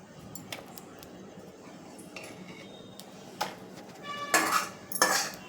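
Roasted halim seeds scooped out of a kadhai, soft metallic scrapes and clinks of a spoon against the pan, sparse at first then louder clattering near the end, no voices.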